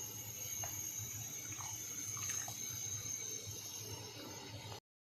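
Rice boiling in a pot of water for mutton biryani gives a steady, close rushing and bubbling wash, with no talk, before cutting to silence near the end.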